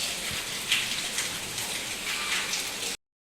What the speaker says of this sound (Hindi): कितनी हो रही है बारिश, और ये रात से ही चल रही है बारिश